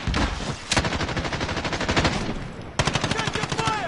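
Video game gunfire rattles in long automatic machine-gun bursts, loud and close, with a brief pause before another rapid volley.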